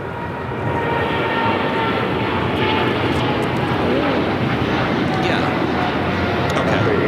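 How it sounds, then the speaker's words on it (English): An Air China Boeing 777 freighter taxiing toward runway 25 left at LAX, producing a steady, broad jet-engine roar that holds at an even level for the whole stretch. "Air China 777 freighter rolling down to 25 left."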